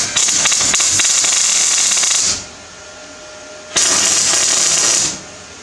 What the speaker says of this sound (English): we're going to weld these on. We'll just tack them on